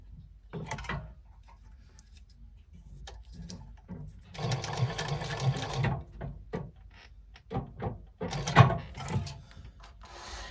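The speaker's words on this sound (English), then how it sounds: "stitch 1/4 inch from the edge" A sewing machine stitches 1/4 inch from the raw fabric edge of a folded connector tab for a wristlet, in short separated bursts with clicks and handling noises between them.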